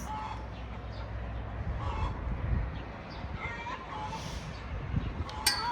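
Chickens cluck and honk faintly in the distance over a steady outdoor background, with a few sharper calls near the end.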